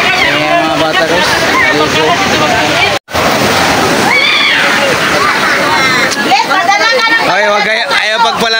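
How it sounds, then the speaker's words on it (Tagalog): Big sea waves surge and splash near the shore in a loud, continuous rush of churning water. Children and adults talk and call out over the noise close by. "laki ng alon"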